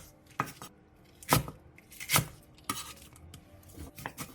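A knife chops halved green onions into 3 cm pieces on a board, a handful of sharp, separate thuds with short gaps between them, close and fairly quiet.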